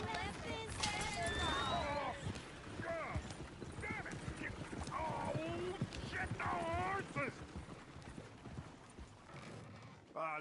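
Hooves clip-clop with rattling wheels of a horse-drawn coach in Red Dead Redemption 2, while several voices talk loudly over the clatter.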